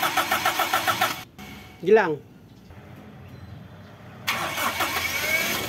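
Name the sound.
car engine starting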